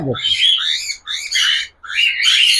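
Adult female lutino cockatiel calling close by in three raspy, warbling bursts separated by short pauses, after a brief low sound at the start.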